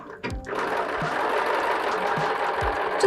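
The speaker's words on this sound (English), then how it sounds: "now we're just going to stitch our pockets on" A sewing machine stitches pockets onto a card holder with Deco Bob thread, running as a steady close mechanical whir with faint rhythmic knocking, and no talk.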